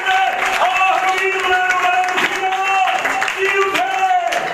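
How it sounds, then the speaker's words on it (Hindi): A congregation at a Sukkot Feast of Tabernacles gathering applauds loudly, a dense continuous patter of clapping mixed with voices and crowd noise. "आइए खूबसूरत कलाम के लिए जोर से तालियां"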